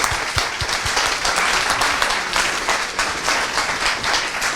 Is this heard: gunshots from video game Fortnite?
no